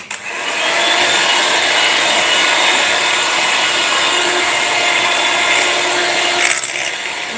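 An electric mixer runs at high speed through thick Nutella cake batter before the butter is added, a loud steady motor whine lasting throughout with a brief bump near the end.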